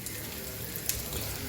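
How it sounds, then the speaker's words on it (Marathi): Sliced onion fries for eggplant bharit, giving a soft, steady sizzle in the pan for a moment, fairly quiet and uninterrupted. "कांदा मस्त फ्राय होतो आहे सध्या"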